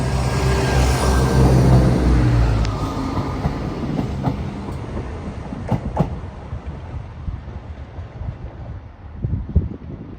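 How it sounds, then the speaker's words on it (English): A train pulls out of Peterborough station bound for Lincoln Central, a loud rumbling roar at first that gradually thins to faint clattering wheels and rail noise as it moves away, with no talking. "now it's departing for Lincoln Central"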